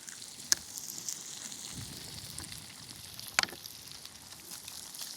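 Chorizo and eggs frying in a pan outdoors on a beach give a faint, steady sizzle, broken by two sharp clicks.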